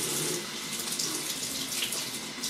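A tap runs steadily and close by while water is added to shaving soap before a head shave, a continuous hiss and splash with no talking.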